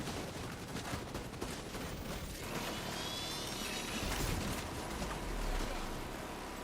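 Minigun fire in The Division 2 shooter game, heard as a rapid, dense stream of gunfire and mechanical clatter from some distance, fairly quiet overall and mixed with other combat noise.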